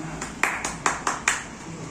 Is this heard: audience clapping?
yes